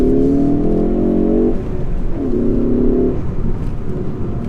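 A 2017 Ford Focus ST-3 hatchback engine revs hard, accelerating from second gear, heard from inside the cabin, pitch climbing, dropping at a gear change, then rising again, loud and close.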